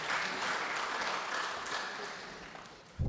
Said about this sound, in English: Another round of applause for the Vice Board Chair.